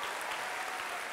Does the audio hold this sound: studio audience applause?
yes